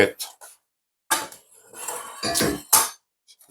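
A metal cake pan is handled on a kitchen counter for a blueberry cake, giving a few sharp clanks and scrapes in separate bursts, with short gaps between them.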